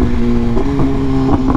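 A Volkswagen car on airbag suspension drives past nearby, its steady engine hum swelling briefly as it goes by.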